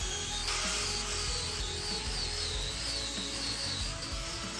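A power tool cuts steel cross blocks for a homemade bench vise, a continuous loud, harsh grinding whine with uneven rubbing texture, heard alone without talk.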